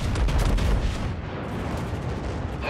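The heavy battleship guns of the USS New York fire in the World of Warships video game, a loud booming salvo with rumbling low echoes that fade out, heard alone without speech.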